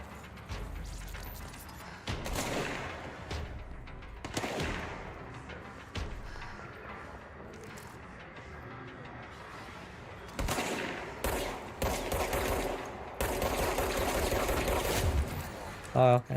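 Rapid bursts of enemy gunfire in the video game Control, sharp shots clustering in loud volleys near the end amid quieter stretches, with a player talking at times.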